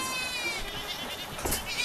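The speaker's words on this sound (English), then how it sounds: "Bye-bye, goats. Have fun." Goats on a farm pasture, bleating close by: a short, wavering, nasal cry over a steady outdoor hiss, with a second bleat briefly rising near the end.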